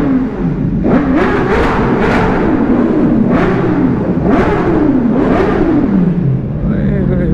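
A BMW S1000 RR motorcycle engine revs hard and loud close by, rising and falling in repeated surges with no pauses.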